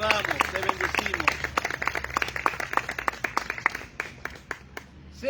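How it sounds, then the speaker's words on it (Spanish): A church congregation applauds during a Spanish-language service with dense, rapid clapping that thins out toward the end, with voices mixed in beneath. "Le da un aplauso a Dios en esta mañana."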